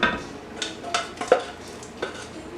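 Chicken pot pie filling of defrosted frozen peas and carrots with fork-tender potatoes being stirred in a pot, giving a few soft scraping and clinking spoon strokes against the pan, close and fairly quiet with no talking.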